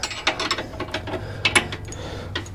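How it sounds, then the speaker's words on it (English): A hand wrench snugging a track bar bolt during a Clayton 3.5-inch overland lift kit install, giving quick ratcheting clicks in uneven bursts, close and fairly crisp, with no talking. "Got a wrench. I'm just going to snug this up."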